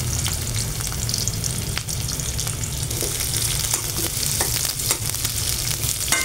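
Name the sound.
onion and green chili frying in hot oil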